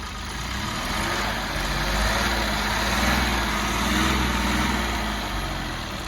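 A 2017 Mahindra TUV300 T8 diesel engine runs at a steady, close, low idle, a continuous rumble that swells slightly in the middle and then settles.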